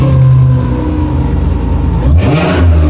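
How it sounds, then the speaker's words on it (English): A Subaru SVX 3.3-liter engine fitted in a 1999 Subaru Outback revs hard, and its loud, close exhaust drone climbs sharply toward the end. "See if I can get the volume of the noise out the back while I romp it."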